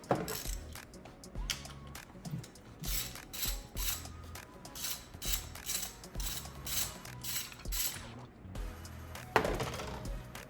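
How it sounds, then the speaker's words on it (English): A ratchet clicks in quick, rhythmic bursts while removing an ignition coil screw on a 2020-2024 Ford Escape ST-Line 1.5L engine, close and steady, ending with a short metallic clunk. "Let's go ahead and finish removing the screw."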